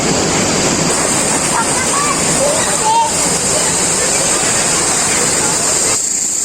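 Tone Phrae Thong waterfall in Phatthalung roars steadily nearby, a dense, constant rush of falling water filling the whole stretch with no pauses.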